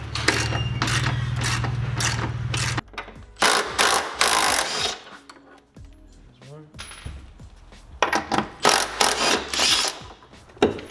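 A ratchet wrench works bolts loose on a car, with loud, close bursts of rapid clicking separated by pauses, clanks and brief handling noises.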